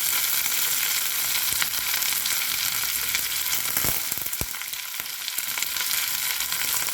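Garlic, ginger and green chillies sautéing for a dates pickle make a strong, constant sizzle close to the pan, broken by a couple of sharp knocks from a stirring spoon; no voices are heard.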